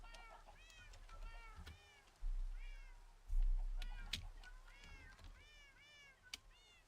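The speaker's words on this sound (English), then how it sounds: "Yeah, I hear you, cats." Cats meow repeatedly, several rising and falling calls at close range, with occasional low thumps and no talk over them.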